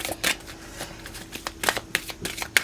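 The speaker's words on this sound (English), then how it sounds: "Let me pull some angelic cards here for your advice." Angel oracle cards being shuffled and pulled from the deck, a run of soft riffling bursts and sharp flicks at irregular intervals, close and fairly quiet, with no talking.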